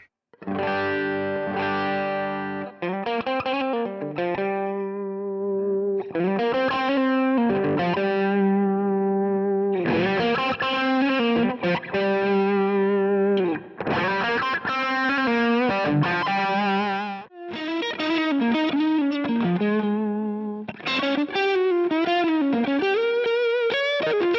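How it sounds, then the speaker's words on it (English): An electric guitar through a JHS Andy Timmons distortion pedal plays sustained chords and riffs, loud and continuous, with a thick, buzzy saturated tone. "it's just a great sounding distortion pedal"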